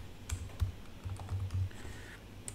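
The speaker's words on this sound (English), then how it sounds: "I'm just going to write some text using the text tool." Quiet, close typing on a computer keyboard while entering text in Adobe Illustrator, a loose run of soft key clicks with small clustered bursts and brief pauses.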